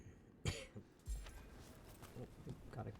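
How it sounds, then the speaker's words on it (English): A single sharp cough bursts out close to the microphone, followed by a throat-clearing sound and quiet muffled vocal noises in an otherwise hushed room. "Oh, got a cough"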